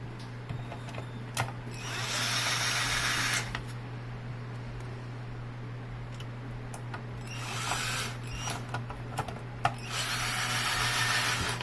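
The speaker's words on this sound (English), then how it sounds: "So let's screw these into place." A power screwdriver drives screws into a car head unit module during an install of a SYNC3 or Sync2 module for a vertical screen head unit, in three short whirring bursts over a steady electrical hum.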